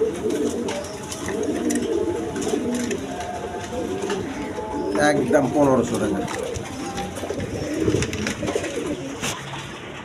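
High-flying Giribaz pigeons coo softly in the background, with low throaty calls repeating through the clip while someone speaks over them.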